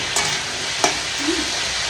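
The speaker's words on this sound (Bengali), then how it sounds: "শুধু তেল দিয়ে তোমার আলু দিয়ে দিয়েছি, আলুটা একটু লাল লাল করে ভাজা করেছি।" Potatoes fry in oil in a home kitchen pan, a close steady sizzle with a couple of sharp clinks of stirring.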